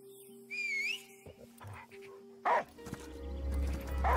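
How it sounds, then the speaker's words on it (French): Dog barking in the video game Last Day of June, a few short barks and whimpers over soft game music with whistle-like tones, moderately near. "J'appelle mon chien ici."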